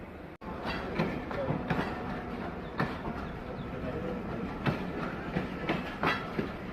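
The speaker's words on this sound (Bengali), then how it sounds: "আর ট্রেন চলেছে আপন মনে" Inside a moving Bangladeshi passenger train near Joypurhat, a steady low rumble runs beneath rhythmic clickety-clack wheel beats over rail joints, recurring every second or so at moderate volume.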